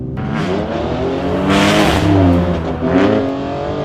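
A 4-wheel-drive Jeep SUV with traction control switched off accelerates hard, its engine revving loudly and steadily from up close, rising in pitch through two surges with no talking.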